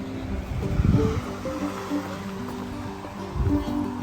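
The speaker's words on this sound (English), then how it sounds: "Sounds like there's a creek or something right down here." Creek flowing below a trail along the Appalachian Trail, a soft, steady rushing wash of water heard at a moderate distance, with a couple of louder swells and no voices.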